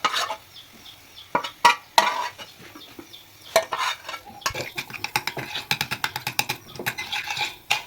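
Fried garlic being stirred into tomato chutney in a pan, with scattered scraping and clinking of a spoon against metal, sparse at first and then quick and busy, close and moderately loud.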